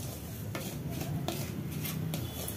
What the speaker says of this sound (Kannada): ಉಪ್ಪಿಟ್ಟು ರವೆನೇ ಹಾಕ್ಕೊಂಡು ಚೆನ್ನಾಗಿ ಫ್ರೈ ಮಾಡ್ಕೋಬೇಕು